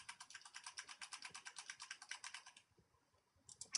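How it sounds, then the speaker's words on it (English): A computer keyboard is typed on in quick, steady keystrokes. The typing pauses briefly, then resumes with a few more clicks, fairly close and quiet. "That was my keyboard."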